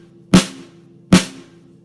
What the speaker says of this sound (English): First off, this is a snare drum.